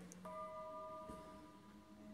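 A single brief strike of the bell at an old schoolhouse rings once, faint and distant, its tone slowly fading against quiet outdoor background.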